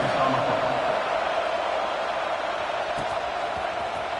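A stadium crowd buzzes loudly at a Clemson vs Miami college football game, a steady, dense roar of many voices filling the space without pause.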